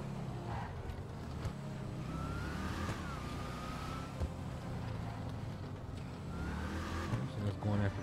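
A Gauntlet Hellfire muscle car with an exposed, Mad Max-style motor revs and drones in GTA Online, a fairly quiet, steady engine roar that rises and falls, with a voice talking over it.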